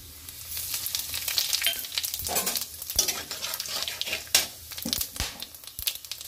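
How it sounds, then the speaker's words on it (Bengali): Bay leaf, dried chilli, garam masala and cumin dropped into hot oil for a cauliflower and potato curry, crackling and spitting up close, with irregular pops and stirring clatter over a continuous sizzle. "তেল গরম হয়ে গেছে, এর মধ্যে আমি তেজপাতা, শুকনো লঙ্কা, গরম মশলা, জিরে ফোড়ন দিয়ে দিলাম"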